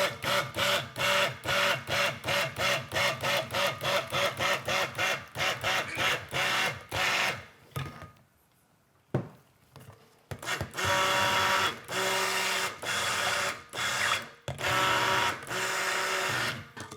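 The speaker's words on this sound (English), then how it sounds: "So I'm going to give it a little bit more on the stick blender" A stick blender whirs through soap batter in rapid short pulses, then pauses to near silence before longer sustained bursts, close and loud.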